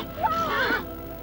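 A horse whinnies once, a loud rising-and-falling neigh lasting under a second, close and clear over a faint steady background.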